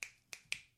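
Three crisp finger snaps ring out alone in quiet, the first two spaced apart and the third following quickly, each sharp and fairly faint.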